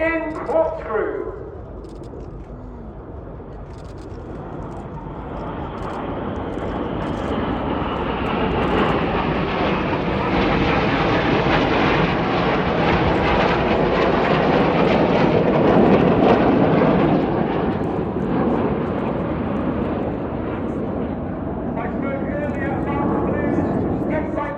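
Red Arrows jets fly a corkscrew manoeuvre at the RIAT airshow, a broad jet roar swelling from distant to loud overhead and lingering as a sustained rumble, with a commentator speaking over it.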